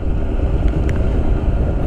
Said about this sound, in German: Ich dachte nur, ich nehme euch mal kurz mit für einen Fahrsound.